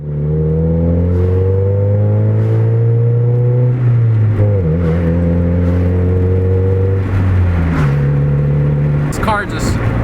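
A 2000 Honda Civic EX engine revs up and falls back several times, a loud steady mechanical drone with rising and dropping pitch, close and continuous throughout.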